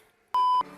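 A Bluetooth tripod remote gives one clean, steady electronic beep lasting about a quarter second, close and clear against near silence, with soft clicks before and after.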